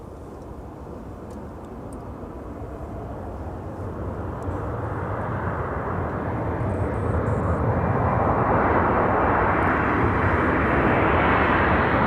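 Jet airliner roaring down the runway on takeoff at Minneapolis–Saint Paul airport, a broad steady rumble that swells louder over the clip, heard alone.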